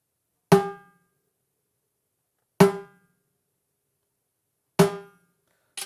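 A snare drum with its bottom head cranked tight is struck three times alone, roughly two seconds apart, each hit a sharp crisp crack with a short ringing tone that dies away quickly into silence.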